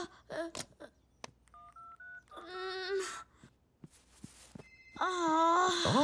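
A cartoon phone rings after being called, sounding from another room: a chirpy electronic ringtone in short bursts, mixed with other cartoon sound effects and tones and ending in a loud, sustained warbling ring.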